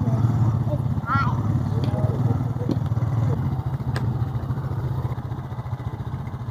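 An ATV engine idles and putters steadily on a trail ride. It stays close and fairly loud, with clatter and people talking over it.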